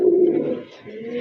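A pair of pigeons coo close by, loud and steady low murmuring coos that dip briefly mid-way, then resume.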